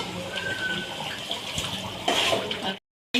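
Water pours from a glass into a cooking pot for chicken biryani rice, a continuous close splashing gush that swells briefly before cutting off into silence.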